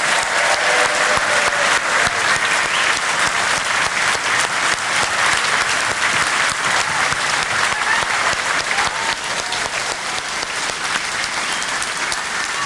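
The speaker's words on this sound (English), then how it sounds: "Let's have another round of applause for our fantastic candidates." Sustained applause from a large crowd at a political rally for election candidates in Surrey, dense and steady clapping throughout with no talking.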